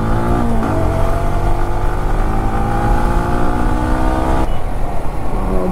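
Road traffic roars past nearby, loud and continuous, with an engine pitch that climbs and falls as vehicles go by and a sudden shift near the end.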